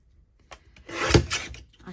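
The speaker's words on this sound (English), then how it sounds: "So I am going to trim some off." A paper journal page is trimmed at a craft table, heard as a short, close scraping and slicing swipe that rises to a brief rasp and then fades, with no speech.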